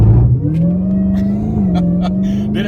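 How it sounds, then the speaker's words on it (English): Dodge Charger Demon 170 held on the brake, its engine note climbing into a steady loud rev as the supercharger builds boost, close and rumbling, with a few sharp clicks and whooshes over the top. "hold the brake with your left foot, go ahead and give it a little bit of RPM"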